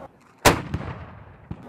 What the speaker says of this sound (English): we are fortunate enough to have some cannons